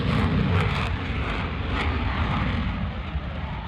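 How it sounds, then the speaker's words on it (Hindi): Fighter jets, Mirage-2000s, roar during an air force exercise at an English airbase, a loud, sustained rumbling roar that fills the scene with no voices over it. "फाइटर जेट्स की एक गर्जना सुनिए।"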